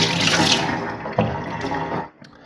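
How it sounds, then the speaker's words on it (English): Hands rinsing under a running kitchen tap, with a steady close rush of water that breaks into splashes as the hands move, then cuts off abruptly near the end. "I'm going to rinse off my hands"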